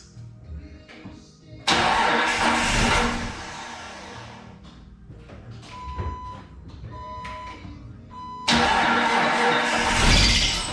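A Jeep TJ being revived after sitting, with a suspected seized alternator, cranks and catches loudly, then runs roughly with uneven surging before a second loud burst of revving near the end.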